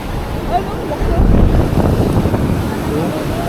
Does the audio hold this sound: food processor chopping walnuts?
no